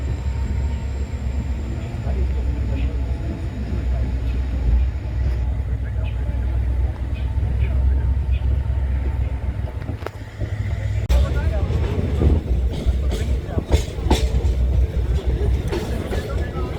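A passenger train runs out of Unchahar station in Raebareli district, Uttar Pradesh, bound for Lucknow on a cold December day, giving a steady low rumble with sharper clatter and rattles toward the end.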